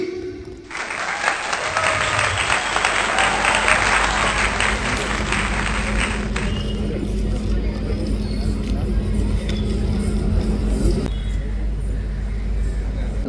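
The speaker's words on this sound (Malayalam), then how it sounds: "ഒരു നിറഞ്ഞ കയ്യടി" An audience at a journalists' conference in Trivandrum bursts into dense, loud applause that thins after several seconds, with talking continuing underneath.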